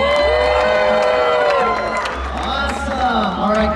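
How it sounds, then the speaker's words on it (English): A large crowd at a SeaWorld Orlando show cheering for the green team, with loud continuous shouts, whoops and children's voices over clapping. "Let me hear you cheer on the green team."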